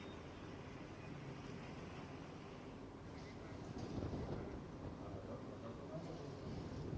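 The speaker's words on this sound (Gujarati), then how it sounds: "આ દ્રશ્યો જોઈ શકો છો કેટલી તીવ્રતાથી આ પવન ફૂંકાયો છે" A strong wind blows during an unseasonal storm around Amreli in Gujarat, raising dust. It makes a continuous, muffled, rushing roar that buffets the microphone and swells louder about halfway through.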